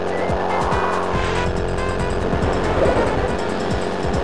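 Lego cars race in the Lego Racers video game, with loud buzzing engine tones that rise and fall in pitch, tire squeals and passing vehicles, sustained and close throughout.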